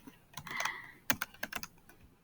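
A name is typed on a computer keyboard: a short run of close, crisp key clicks in quick irregular bursts, with a brief pause between groups and no voices.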